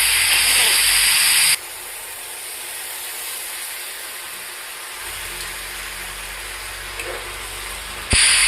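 Banana stem curry with potato, tomato and spices frying in a pan, giving a steady sizzling hiss that is loud at the start and end, with a quieter stretch in between.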